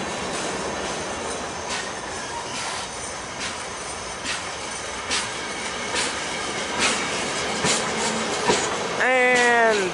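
CSX freight train with a caboose rolls past, a steady rumble of railcars with repeated wheel clacks and rising squeals of wheels near the end, close and loud.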